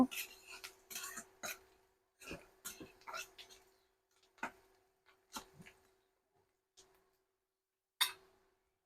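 Whole cumin, green chilies and onion being stirred in a pan: a series of quiet scraping and clinking strokes from a spatula against the pan, in irregular bursts with short pauses, close and faint.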